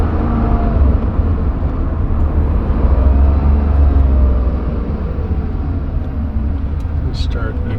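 Engine of a 1970 Porsche 911E heard from inside the car, a loud steady rumbling drone under conversation, pulling hard in third gear.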